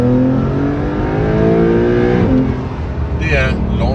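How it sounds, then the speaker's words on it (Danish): Porsche 991 Gen. 2 Carrera S under launch control on a wintry Danish road, a loud engine note climbing through the revs with a shift near the end, heard from inside the car. "Det er launch control på en rigtig vinterdag i Danmark."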